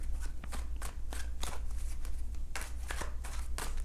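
Tarot cards are shuffled in quick riffling bursts, a run of crisp close flutters over a low steady hum, no voice.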